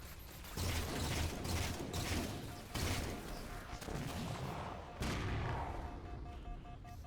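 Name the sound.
battle rifle gunfire in video game Halo 4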